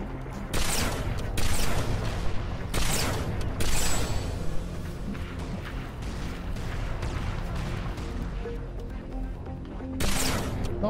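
Bursts of gunfire in the video game Halo 3, several loud volleys spread through the fight with quieter stretches between them.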